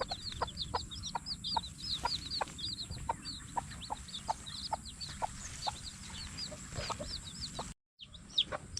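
A chicken clucks over and over in a steady rhythm, close by, against a constant outdoor background hiss, with a brief drop-out near the end.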